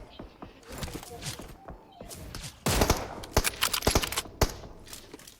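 Gunfire in an online shooter game comes in scattered bursts and single shots, some dense volleys near the middle and end, mixed with footstep-like thuds and faint voices underneath.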